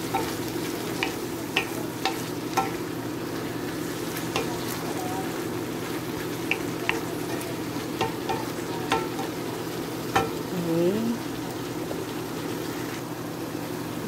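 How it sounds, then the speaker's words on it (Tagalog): Green peas frying in a pan are stirred with a utensil, giving a steady low sizzle under scattered scrapes and clicks, close and moderately loud, with no talking. "Haluin natin. Haluin ng mabuti."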